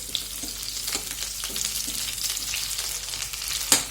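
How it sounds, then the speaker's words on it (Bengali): Cauliflower frying in hot oil in a wok for a chowmein dish gives a close, steady sizzle broken by scraping stirs and one sharp clink near the end. "ফুলকপিটাকে ভেজে নিই।"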